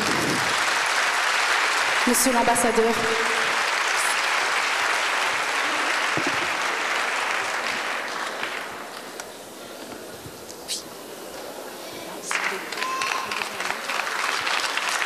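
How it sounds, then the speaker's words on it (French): Audience applause for an ambassador receiving an award at a disability awards ceremony, long sustained clapping that dips midway and picks up again, with someone speaking briefly over it. "Si on peut applaudir, s'il vous plaît."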